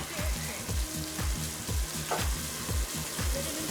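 Chopped tomato fries in a pan on high heat, a loud continuous sizzle with a steady rhythmic pulsing of stirring or tossing throughout.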